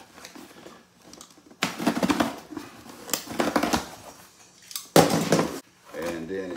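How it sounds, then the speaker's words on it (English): Cardboard box for an HJC i90 modular motorcycle helmet being cut open, giving bursts of scraping, tearing and clattering at close range, broken by pauses and mixed with background voices. "I'm gonna cut into this box"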